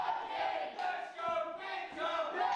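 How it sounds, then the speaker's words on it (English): A wrestling crowd at an Academy Championship match cheers and chants in loud, swelling waves as the bell opens the bout, with no commentary over it. "The crowd are into this match already and we haven't even got started."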